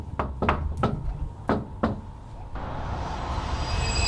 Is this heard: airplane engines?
no